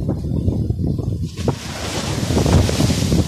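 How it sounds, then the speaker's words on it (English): Sea waves roll in on a shore, with heavy gusting wind buffeting the microphone throughout and the surf building louder in the second half. "Look at these waves coming in."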